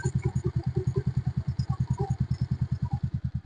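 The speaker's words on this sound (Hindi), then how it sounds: "ये आपकी इंजन की साउंड है।" A 2018 Bajaj Pulsar 150 motorcycle engine runs steadily close up, its single-cylinder thump pulsing in a fast, even rhythm with light mechanical clatter and no talk.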